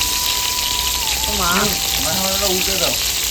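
Fish head frying in a pan for a Bengali bottle gourd dish, a steady broadband sizzle running throughout while voices talk over it and a faint tone hums underneath.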